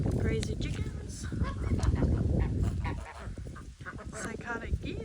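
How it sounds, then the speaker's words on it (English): Farmyard geese honk repeatedly in a noisy, overlapping chorus, fairly close, with ducks and other fowl mixed in and a person talking alongside. "Psychotic geese."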